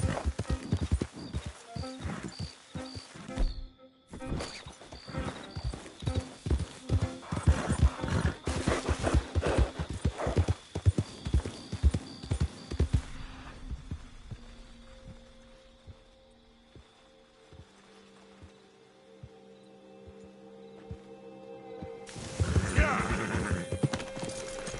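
A horse in the Red Dead video game, with rapid, loud clip-clop hoofbeats that come in bursts with brief pauses, then fade to a quiet hum before a louder stretch returns, a voice talking over parts.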